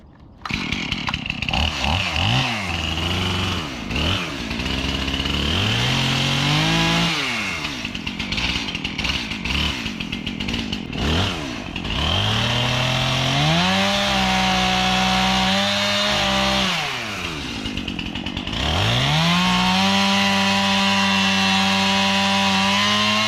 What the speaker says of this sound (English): I'm gonna get this chainsaw fired up and let's get to work